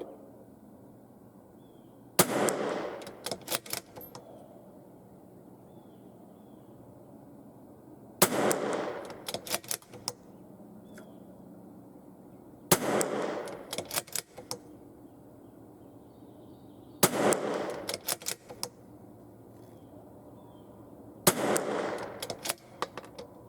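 Five rifle shots fired at a target while a scope is tested at 50 yards, each a loud, sharp report followed by ringing echoes and spaced several seconds apart with quiet between.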